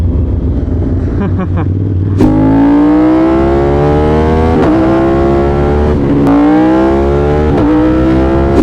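An Audi RS5 engine roaring close by as it accelerates through the gears, a loud rising rev with sharp shifts at regular intervals, over constant wind and road noise.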